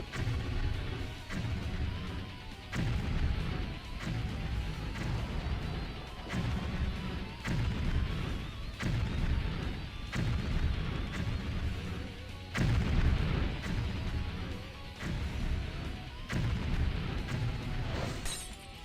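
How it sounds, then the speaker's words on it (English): Video game battle sounds: repeated heavy gunfire and booming artillery blasts with crashing impacts, loud and dense, arriving in sharp bursts every second or so over a constant roar. "Oh, wow, they're just firing at us."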